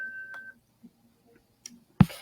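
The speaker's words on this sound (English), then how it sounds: "that was my mindfulness moment chime on my phone too" A phone's mindfulness reminder chime sounds alone, a short bright tone near the start, followed by a few faint clicks and a louder burst at the end.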